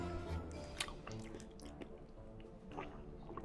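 Chewing a piece of Thanksgiving turkey, with close, soft, wet mouth sounds and occasional small bites repeating irregularly, heard alone with no talking.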